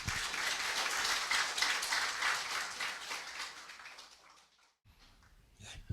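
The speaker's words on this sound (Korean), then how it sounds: "여러분 큰 환영의 박수 부탁을 드립니다." Lecture-hall audience giving a welcoming round of applause for a guest professor at a philosophy forum, dense steady clapping that fades out toward the end, followed by a brief quiet moment.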